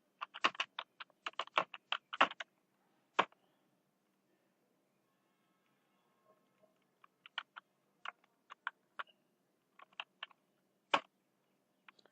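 A computer keyboard clicks close by as commands are typed in quick clusters of keystrokes, with a pause in the middle before the taps resume at a slower pace.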